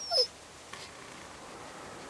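A dog in The Walking Dead video game lets out one brief, high whimper at the very start, followed by near silence and faint low background ambience.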